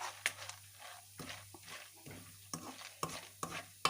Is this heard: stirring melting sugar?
yes